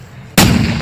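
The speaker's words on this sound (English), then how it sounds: "It's just a firecracker." A single big firecracker goes off close by with a sudden sharp, very loud bang after a short quiet moment, its blast ringing on briefly.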